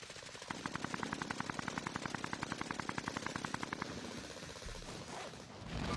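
Rapid automatic gunfire in a video game: a steady, evenly spaced burst of loud shots for several seconds that then stops, leaving muffled background game noise.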